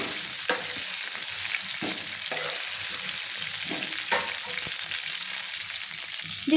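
Potatoes fry in a wok with a steady, fairly loud sizzle of hot oil, broken by a few stirring scrapes and clatters, with no talking.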